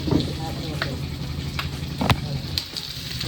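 Onion and garlic sizzle in a hot pan, a steady frying hiss with occasional sharp clinks of a utensil and a voice speaking over it.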